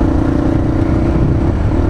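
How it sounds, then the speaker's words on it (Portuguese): A Honda XLX 250R motorcycle engine runs loud and close after a kick start, a continuous throbbing roar with rapid low firing pulses and no speech. "dá partida na moto no braço"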